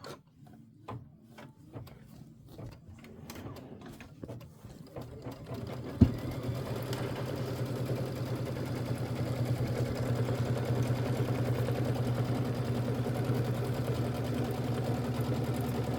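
A sewing machine stitches a Kimberbell It's Snow Time decorative hot pad, beginning after a few seconds of scattered light taps and then running as a steady, close, continuous mechanical whir until the end.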